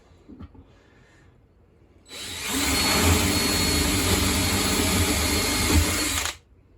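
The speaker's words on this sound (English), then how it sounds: "So this side, I'm just going to drill at a slight angle" Quiet rustling, then a power drill kicks in loudly and runs steadily for about four seconds, drilling at a slight angle into a narrowboat hull, before stopping.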